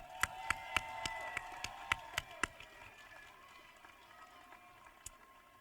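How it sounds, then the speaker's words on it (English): Sparse, faint claps from a small audience at a school senior investiture parade, honouring bagpiper Noah Young; about ten separate claps in a quick run, then the sound thins to a lone clap near the end. "Can we have a round of applause for Noah?"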